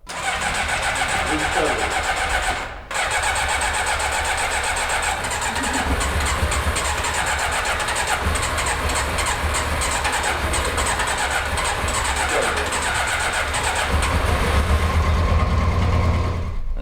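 A four-cylinder motorcycle engine cranks, catches and runs roughly on only two cylinders, with an uneven, sputtering idle close by; a short gap early on, the engine loud throughout.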